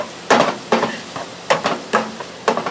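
Taco seasoning being stirred into sizzling ground meat in a frying pan, with a steady frying hiss broken by sharp, irregular scrapes and clacks of the utensil against the pan, close and fairly loud.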